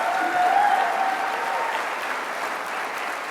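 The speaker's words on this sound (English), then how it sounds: "So could we just give a round of applause of those folks?" A round of applause from the audience at a college graduation ceremony, steady mass clapping that fills the hall and then gradually thins out.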